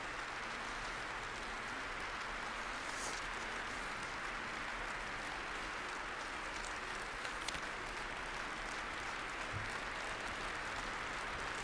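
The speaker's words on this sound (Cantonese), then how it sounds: "喺台下嘅所有嘅在座嘅一啲嘅嘉賓呢，都係起立並且係拍掌" Sustained applause from a standing audience at the 2010 Nobel Peace Prize ceremony held for an absent Liu Xiaobo, a steady dense crackle of clapping filling the hall without a break.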